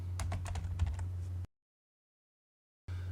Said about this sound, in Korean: 단축키를 입력하고요, 엔터 클릭.